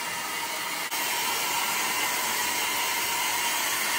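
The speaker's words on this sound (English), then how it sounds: "No, it's the hair dryer." A hair dryer blows with a constant, loud rushing hiss, steady apart from a brief dip near the start.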